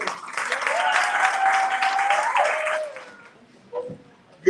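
A crowd at an arts and poetry event claps to welcome the speakers, steady applause over which a voice talks, fading out after about three seconds into a quieter room.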